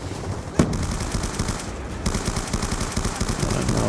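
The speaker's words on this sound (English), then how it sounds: "the enemy Russian decided to shoot me" Sustained automatic gunfire in the game Call of Duty Black Ops II, with rapid overlapping shots and battle noise filling the scene continuously at close range, and a sharper single blast early on.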